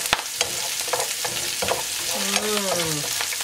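Onions and herbs frying in a pot, a close, steady sizzle punctuated by a few stirring knocks and clinks, with no talk.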